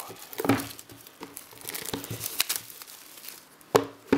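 Plastic shrink-wrap foil is peeled and torn off a music fan box, making close crinkling and crackling rustles in irregular bursts, with a sharper crackle near the end.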